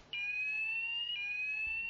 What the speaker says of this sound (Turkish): Yangın çıktı, alarmı çalıştır.